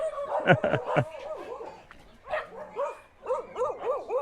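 Several dogs bark and yip in quick bursts on a street in Nicaragua, fairly close, with a short pause midway before a run of rhythmic barks resumes.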